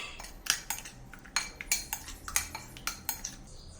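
A metal utensil scrapes and clinks repeatedly against a bowl while Turkish chicken marinade is mixed, a quick irregular rhythm of close, soft taps.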